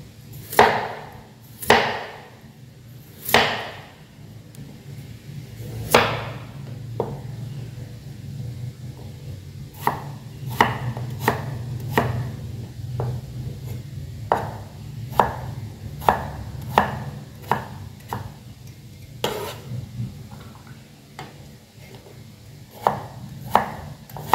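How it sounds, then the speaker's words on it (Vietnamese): A knife dicing potatoes into small cubes on a cutting board for a beef and soybean stir-fry, with sharp, close chops, first a few spaced strikes, then a quicker irregular run of knocks. "Khoai tây các bạn cũng thái ra cho mình nhé."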